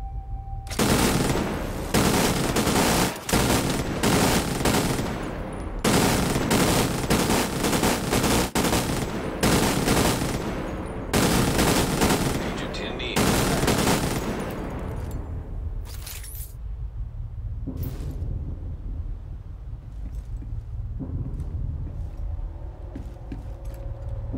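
Gunfire in The Division 2 video game: long loud bursts of automatic fire in several volleys for about fifteen seconds, then quieter game ambience with scattered distant shots.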